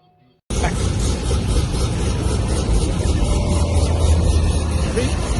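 A 2017 Camaro SS with an LS3 V8, BTR stage 4 cam, LT headers, factory bimodal mufflers and a D1SC supercharger starts after a brief silence, then rumbles low and loud with a steady, slightly rising roar.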